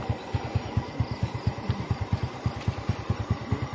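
A motorcycle engine idles close by, a steady regular put-put of low firing pulses running unbroken throughout with no talk over it.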